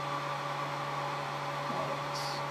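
A hair dryer runs steadily with a constant whirring hum and a faint tonal whine, alone and at moderate loudness, used while building a Smart Doll.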